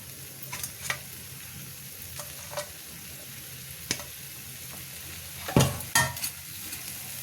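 Pomfret fish frying in a pan of spicy poppy-seed and cashew gravy gives a soft, constant sizzle, broken by a few sharp clinks and scrapes of a utensil against the pan, louder near the end.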